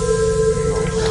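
A sharp, sustained screech on a train for a horror story, a steady piercing tone held over a low rumble for about a second, loud and close.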